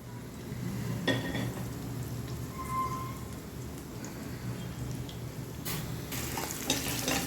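Cumin and whole spices sizzle in hot oil with a green chili while prawn pulao is being prepared, a steady close frying hiss with a few faint clinks and stirring sounds, no voices.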